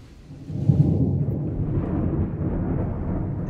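Deep, loud thunder rolls in after a brief pause, a sustained rumbling crash lasting several seconds as a sound effect in a narrated Russian mythological story about Perun.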